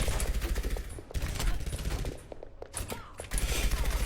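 Rapid gunfire from a first-person shooter video game, loud bursts of automatic fire crackling almost continuously with a brief lull midway, while a voice talks faintly underneath.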